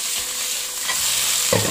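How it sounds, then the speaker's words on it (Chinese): Small crucian carp frying in a wok, tossed partway through: a steady close sizzle with a clattering scrape and a heavier thump of the fish landing back near the end, no voices. "煎至差不多的时候，我们给它翻一下锅"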